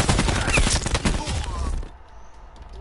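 A burst of rapid gunfire in a shooter video game rattles loudly for under two seconds, then cuts off, leaving quiet room tone.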